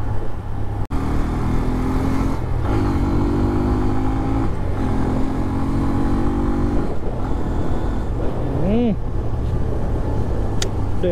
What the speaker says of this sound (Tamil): வண்டி உருமுது.